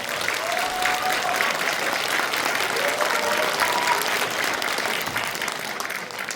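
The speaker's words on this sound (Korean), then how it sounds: "한 번 더 박수 주십시오" Sustained audience applause fills a civic hall during a book concert in Yeongju, dense and even from start to finish, with faint voices mixed in beneath the clapping.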